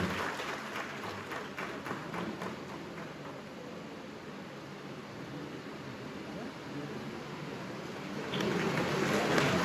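Audience applause for teachers at a Hindi-speaking school honour ceremony: a continuous wash of clapping from a large crowd, swelling louder near the end.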